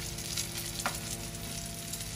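Eggplant slices frying as begun bhaji hiss with a soft, even sizzle at low level, marked by one brief scrape partway through.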